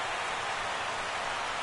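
Rain pouring down in a baseball video game, a steady even hiss of falling water with no voices, alone and fairly loud.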